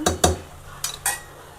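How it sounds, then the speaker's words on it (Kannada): A spoon clatters against a pot as cooked dal with spinach is mashed, giving a few sharp metallic knocks and scrapes spread over a short moment. "ಬೇಳೆ ಬಂದಿದೆ ಮೂರು ವಿಸಲು ಇದನ್ನು ಸ್ವಲ್ಪ ಮ್ಯಾಶ್ ಮಾಡ್ಕೋಬೇಕು"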